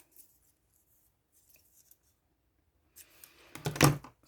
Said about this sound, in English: So it's easier to cut, you know, on the back first, following the tape